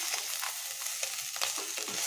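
Bitter gourd fry with salt is tossed in a pan over a steady sizzle, with a few quick scraping strokes of the spoon in a short burst.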